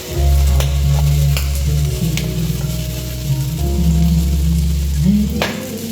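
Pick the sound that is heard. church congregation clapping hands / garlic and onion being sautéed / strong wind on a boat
garlic and onion being sautéed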